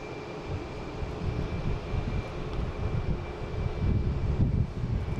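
JetBlue airliner taxiing at the airport, its engines a steady broad rumble with a thin high whine, holding fairly loud and even throughout with no voices.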